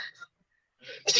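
A single loud sneeze bursts out near the end, right after a short breathy intake. Before it there is a brief vocal sound and then a moment of silence.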